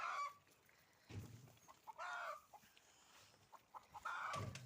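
Young goslings graze on grass in a yard, giving soft, intermittent honks and peeping calls, close and fairly quiet, in scattered bursts.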